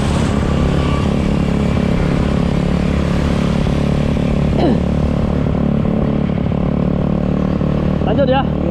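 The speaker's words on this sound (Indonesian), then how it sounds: "Knalpot motor kita lepas." A motorcycle rides along a village road in Pererenan, Bali, with a loose exhaust pipe; the engine drones loudly and steadily throughout, with brief rattling clatters near the middle and end.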